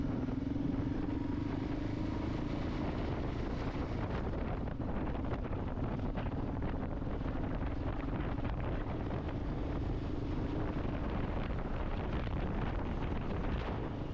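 A Kawasaki KLR motorcycle ridden near a West Texas lake, its engine droning steadily and continuously throughout, mixed with heavy wind rush buffeting the microphone, with no talking.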